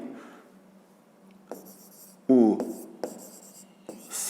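Chalk or pen scratches out notes in a classroom in short, separate strokes and taps, close and faint, with a brief voiced sound partway through.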